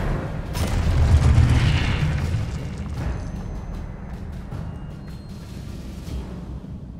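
A Disarming Charm spell cast in the Hogwarts Legacy video game: a deep, booming magical burst swelling over the first two seconds, then a long rumbling tail that slowly fades, with no talking.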